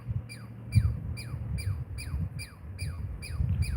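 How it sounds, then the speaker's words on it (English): A pine squirrel, also called a red squirrel, gives a steady series of about eight sharp, chattering squawk calls in quick rhythm, fairly near and clear above a low rumbling background outdoors near apple trees. "It's a pine squirrel. Or some people call them red squirrels."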